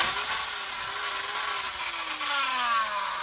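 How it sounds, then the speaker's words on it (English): An old, worn-out power drill runs steadily on its own, a thin whining motor tone with a gradually falling pitch and rough buzzing overtones, close by and fairly quiet. "This is an old worn out drill, so it probably pulls more amperage."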